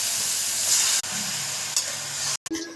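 Mutton and chopped onion sizzle steadily in hot oil for mutton kosha, a loud, continuous frying hiss with stirring that holds for a few seconds before a brief break near the end.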